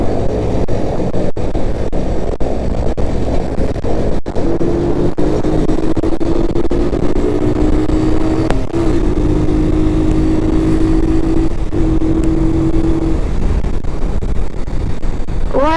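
A Keeway motorcycle engine runs steadily on a road, with a rising whine as it accelerates across the middle stretch under constant broadband rumble and wind.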